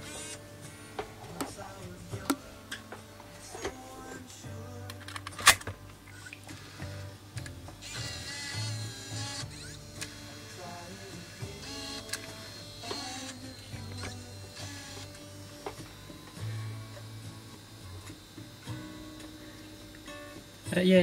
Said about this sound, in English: I'll eject the tape and put it back in and see if that'll restore it.